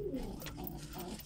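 Pet birds, apparently pigeons or doves, being fed grain give soft, close, low cooing calls in one brief burst.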